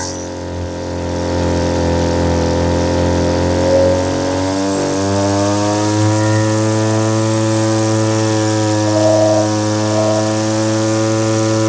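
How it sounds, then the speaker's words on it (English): A small two-stroke Echo string trimmer engine drones loudly and steadily, its pitch climbing partway through and then holding at a higher, even whine. "You'll hear the engine speed come up as I do that"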